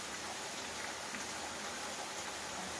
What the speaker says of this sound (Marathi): मौजे मनुला येथे जोरदार पाऊस होत आहे।